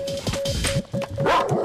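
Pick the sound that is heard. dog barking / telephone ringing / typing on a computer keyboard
dog barking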